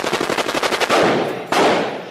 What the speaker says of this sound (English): Machine gun meant to be fired.